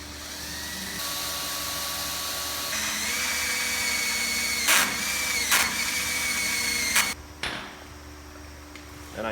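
A power drill bores out rivets in a shop during a C10 to K10 4x4 truck conversion, a close, sustained whine that changes pitch as the bit loads and frees, broken by short bursts and stops, with no talk.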